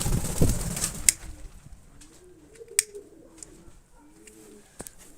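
Pigeons coo softly in low, rolling calls, with a few sharp clicks and wing flaps; no talking.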